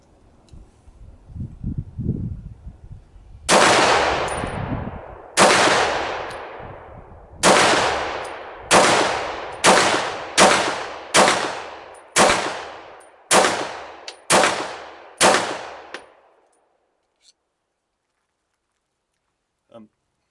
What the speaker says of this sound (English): I'm just basically going to shoot 11 rounds out of the Glock